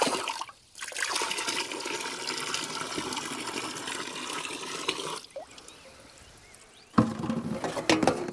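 Water is poured over a freshly caught 3.5-pound bass beside a backyard pond, a steady splashing rush that runs for several seconds, briefly stops, then starts again, fairly close.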